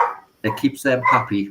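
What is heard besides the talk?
dog barking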